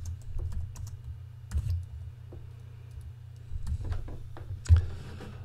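Typing on a computer keyboard at a desk, with a steady run of light, irregular key clicks over a low constant hum, close and fairly quiet.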